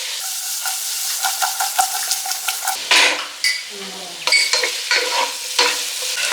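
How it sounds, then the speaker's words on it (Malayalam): Dragon chicken with capsicum and onion is stir-fried fast in a hot pan, a steady sizzle broken by repeated scraping and clattering strokes of a spatula, close and fairly loud, with no talking. "നമ്മൾ ഇട്ടതിന് ശേഷം നല്ലപോലെ തന്നെ ഇങ്ങനെ ഇളക്കി കൊടുത്തുകൊണ്ട് തന്നെ ഇരിക്കണം കേട്ടോ"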